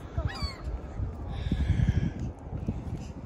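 Birds honk at a beach in a few brief, reedy calls near the start, then fade under low rumbling wind and outdoor noise.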